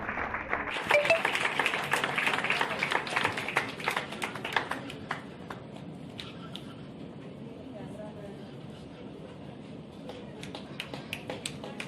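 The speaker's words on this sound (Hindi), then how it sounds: "একটু জোরে হাত তালি হয়ে যায়।" An audience claps for a foundation at a talk event. The applause starts as a loud, dense burst of many hands, then thins into scattered claps that carry on at a lower level under a steady murmur.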